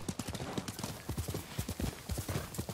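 Horse hooves clip-clop in a quick galloping rhythm in the samurai video game Ghost of Tsushima, steady and fairly close throughout, with a faint whinny, and no one talking.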